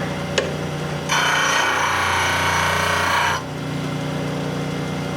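Lathe scraper being sharpened on a PSI sharpening system, a steady abrasive rasp of about two seconds that rises above a constant motor hum and then drops back to the hum alone.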